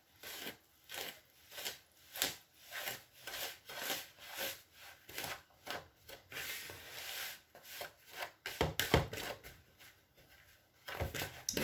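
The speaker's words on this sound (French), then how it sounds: "Donc là, je prends le fouet." A hand whisk beating 150 ml of oil with liquid ingredients in a bowl, steady rhythmic scraping strokes about twice a second, fairly quiet and close, growing busier and uneven toward the end.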